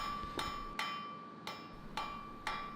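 Hammer strikes on a steel bar as a chisel taper is forged for a treble clef, five evenly spaced ringing metallic blows about half a second apart, each with a brief bright ring, and no talking.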